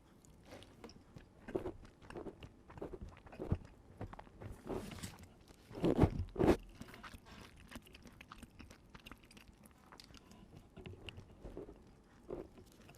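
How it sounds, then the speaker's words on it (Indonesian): Otak-otak fish cake is chewed right up against the microphone, ASMR-style, with soft, wet, intermittent bites and crunches. A louder cluster of crunches comes midway, then quieter chewing. "Jadi gua makan, kalian denger gua ngunyah aja."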